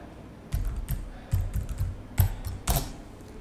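Quick bursts of keystrokes clatter on a computer keyboard in a close, quiet room. The taps come in short, uneven clusters with brief pauses between them.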